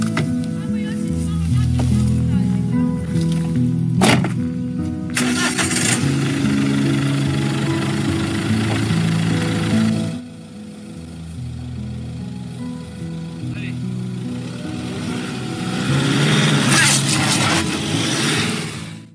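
Camper van engine idling and revving as it creeps onto levelling plates, a close, rough low rumble that drops away midway and then builds again, with occasional speech over it.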